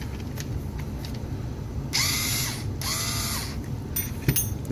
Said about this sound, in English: they also fit up in my Craftsman drill